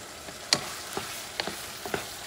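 Yak meat goulash with mushrooms sizzles softly in a pan while a utensil taps and scrapes it in a few sharp, spaced clicks, quiet and close.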